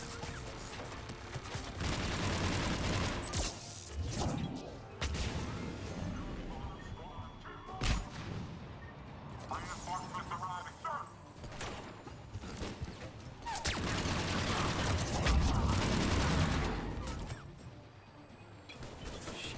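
Grenade explosions and gunfire in the video game Mass Effect 3, with bursts of loud blasts, crashes and rattling shots coming in uneven waves over game background noise.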